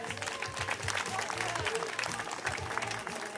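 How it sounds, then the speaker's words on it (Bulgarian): Audience clapping at an outdoor summer salsa festival show, a dense steady patter of applause from a crowd lasting a few seconds, fairly distant and moderately soft, mixed with faint crowd noise. "аплодисменти за тях."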